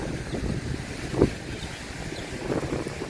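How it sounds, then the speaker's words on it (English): Gusty wind blowing across the microphone outdoors at Epcot on a warm, breezy day, a steady low rumble with brief louder buffets and no talking. "I don't know if you guys can hear that. The wind, yeah."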